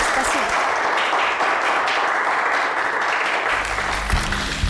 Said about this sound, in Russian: давайте проводим Лейлу бурными аплодисментами